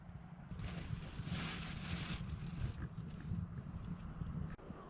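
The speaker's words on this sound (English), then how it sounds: "The wind is really gusting too, as you might be able to hear" Wind gusts outside on a frigid, snowy night in the Canadian bush, a faint, steady low rumble that swells and buffets without pause.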